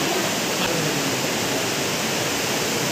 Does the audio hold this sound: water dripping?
yes